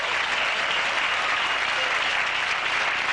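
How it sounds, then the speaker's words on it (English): A studio audience at a late-night talk show claps in a dense, steady wash of applause, loud and sustained throughout with no pauses. "applauding for themselves"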